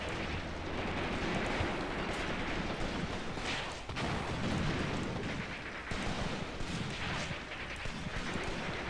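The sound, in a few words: tank firing in the video game Cross of Iron: Mius Front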